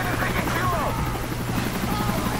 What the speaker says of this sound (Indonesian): Ini helikopter rekan kita apa?